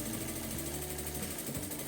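Sewing machine running steadily as it stitches a fabric flap onto a notebook cover, a continuous mechanical whir with a slight shift in pace near the end, close and alone.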